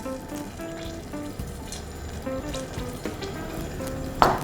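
Tomato sauce with red pepper flakes simmers and sizzles softly in a pan, a steady bubbling hiss under faint background music, ending in a brief louder clink.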